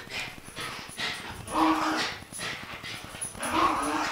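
A dog named Steve growls, whimpers and yips in playful bursts from another room, moderately loud over a steady background hum.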